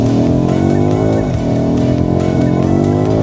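A BMW M5 F90 in M mode revs hard, its engine note loud and close, rising and falling in a quick blip midway before holding a steady, throaty drone.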